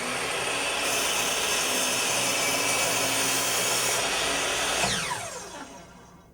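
A mitre saw cuts a bevel through wood with a loud, continuous high whine and grinding bite, then the blade winds down with a falling pitch as the cut finishes.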